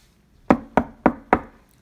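Four sharp knocks on a bedroom door, evenly spaced and close, each one hollow and woody with a short decay.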